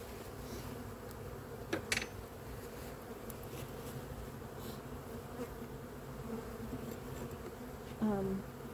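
Dense, steady buzzing of many bees in a hive fills the air close by, with a few louder bees passing near now and then.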